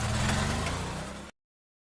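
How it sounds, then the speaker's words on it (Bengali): A motorbike engine running with a low, steady rumble that revs slightly and then cuts off abruptly to silence, no voices. "বাইক নিয়ে বেরিয়ে পড়ল সে।"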